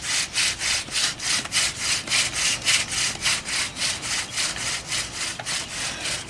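Steady rhythmic rasping of a bow drill rubbing against tulip poplar wood, back-and-forth strokes repeating about three per second, close and even, no voices.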